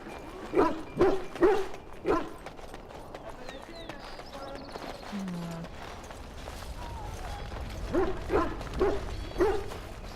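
Dogs sick from Darkspawn blood bark in Dragon Age: Origins, in short clusters, several sharp barks near the start and again near the end, with quieter game ambience between.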